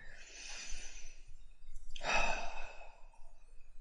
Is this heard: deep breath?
yes